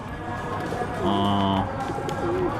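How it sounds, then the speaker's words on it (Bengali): A racing pigeon, a racer cross, gives a short soft coo from close by, set against low background murmur and a brief voice. "এই কবুতরটা"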